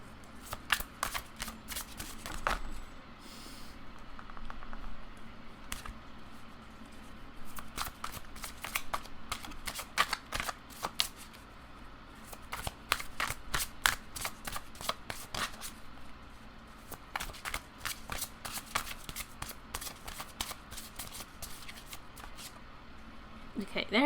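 A deck of tarot cards is shuffled by hand again and again, giving crisp, rapid riffles and flutters in uneven bursts, close to the listener and fairly quiet, with a voice talking now and then in between.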